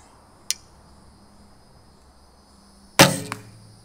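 A barebow fitted with a Hoyt weight system looses a shot, giving a sharp string release and bowstring twang with a short ringing decay, preceded by a faint click; no one speaks.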